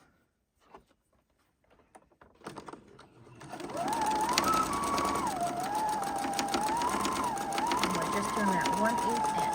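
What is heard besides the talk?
sewing machine sewing an apron side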